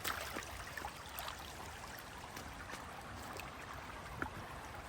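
Creek water flows along a nature trail at a crossing, a faint, steady babbling trickle with scattered small splashes, heard from nearby without any voices.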